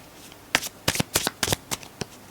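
Tarot cards are shuffled by hand in a series of about seven quick, crisp riffling bursts, close and clear, with short pauses between them.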